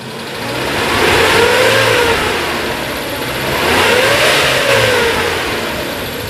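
A 2002 Suzuki Realvan DRV with a 1500 cc carbureted engine is blipped twice, each rev swelling smoothly up and easing back down around a loud, close, even idle.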